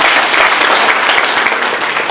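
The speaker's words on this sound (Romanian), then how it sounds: "Blaga Mihai, putem să și aplaudăm pe aia." A crowd at a local ceremony honoring war veterans claps loudly and steadily in a brief burst of applause, with no speech over it.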